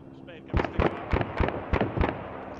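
Arma 3 gunfire at a helicopter: six or seven sharp, loud reports fire in a steady rhythm after a short quiet start, with a voice faintly under the opening.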